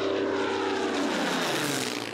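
The propeller engine of a Hawker Hurricane fighter plane drones loud and steady in a continuous roar as the aircraft passes, fading slightly at the end.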